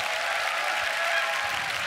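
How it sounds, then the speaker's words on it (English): Audience at the Grand Beatbox Battle 2023 World League solo final applauding and cheering loudly and steadily, a dense crowd roar with no pauses. "Make some noise. Give it up for that."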